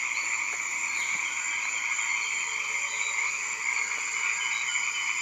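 Frogs calling in the Amazon rainforest, a steady layered chorus of high trilling croaks that holds at an even level throughout, with faint background ambience and no talking.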